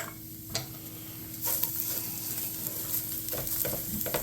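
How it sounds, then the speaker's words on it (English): Shredded cabbage and diced onions with pepper and salt sauté in a pan, giving a continuous close sizzle broken by a few scraping stirs. "going to saute our cabbage and onions"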